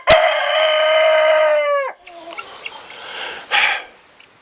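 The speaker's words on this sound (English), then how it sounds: "Doggone rooster." Rooster named Rufus gives one loud, close crow that lasts nearly two seconds, followed by faint clucking and a short squawk near the end.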